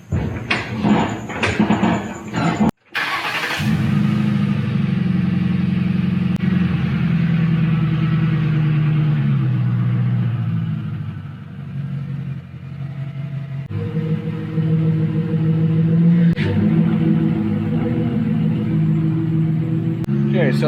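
A car engine runs steadily inside a garage as the car is driven outside toward a dark alley, a low continuous rumble after a brief door clunk, with sliding and rattling sounds at the start.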